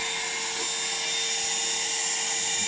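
Plastic welding on a broken Discovery 2 TD5 front bumper end cap, a steady loud blowing whine with a thin constant tone running unbroken throughout, close to the tool and with no one speaking.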